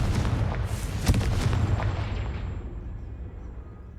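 A Confringo blasting spell goes off in a Harry Potter video game: a loud, booming explosion up front with a sharp crack near one second, then a rumble that slowly fades away. No one talks.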